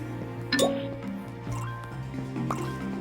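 Water is placed in the Minecraft video game while digging water holes, giving faint watery drips, clinks and gurgles with a brighter splash near the start, soft and alone with no talking.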